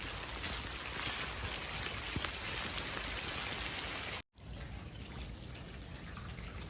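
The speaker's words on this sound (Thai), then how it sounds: "พี่จ้ะฝนมาแล้วฝนมาแล้วฝนไล่แล้ว" Heavy rain pours steadily in a dense, hissing roar, heard from under a bridge, briefly cutting out for a moment before resuming just as strong.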